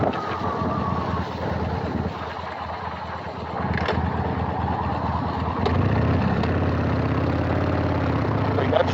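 A 2003 Harley-Davidson Sportster 883 V-twin motorcycle runs steadily and loud, its engine note rising as it pulls harder in the second half, with no talk over it.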